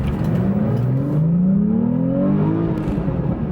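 A 2017 Porsche 991.2 sports car accelerates hard, its engine note climbing steadily in pitch through a long, loud, close pull with no talk over it.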